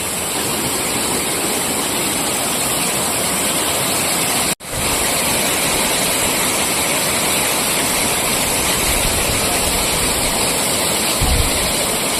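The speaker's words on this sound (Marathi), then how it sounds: "जितेवढ्या धबधब्याचा जबरदस्त असा सीन आहे बघा खूप छान असं पाणी पडतंय" A steady, loud roar of a waterfall in rain at Phopsandi village fills the whole stretch, dense and unbroken apart from one brief dropout partway through.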